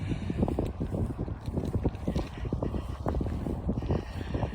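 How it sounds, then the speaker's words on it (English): Gusty wind blows hard outdoors at an old graveyard, buffeting the microphone with a dense, continuous rumble. A fast patter of hailstones may be mixed in, and no one speaks. "And the wind has certainly picked up a wee bit."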